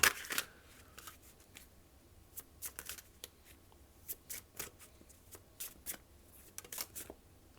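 Tarot cards are shuffled and drawn close at hand, a crisp riffle at the start followed by a string of soft irregular slaps and flicks, quiet and with no voices.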